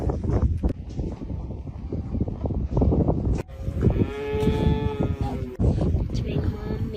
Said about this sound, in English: Mom milking a cow.